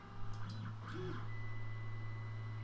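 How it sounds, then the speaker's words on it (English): A 3D printer starts up while making face shields, with a steady low motor hum, a few short clicks and stepper whines, then faint rhythmic movement sounds. "once the printer gets to temperature, it will start to move."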